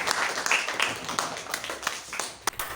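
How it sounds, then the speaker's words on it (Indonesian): A small group claps briefly in a classroom or training session, a short, uneven burst of hand claps at moderate volume with a few sharper individual claps standing out. "tepuk tangan untuk kita semua"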